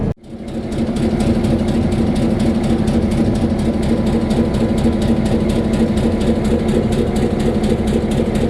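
Cooling fans on a locomotive-type electrical system spin up after a test button is pressed. A brief drop at the start gives way to a steady, loud whirring roar that holds evenly to the end.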